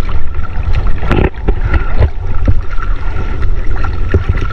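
Water sloshing and lapping against a small fishing boat, with steady low wind noise and occasional knocks of wood, close by and fairly loud.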